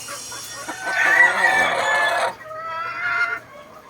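A bone crusher hatch gamefowl rooster crows loudly and close, one drawn-out crow that fades into a shorter, softer trailing call.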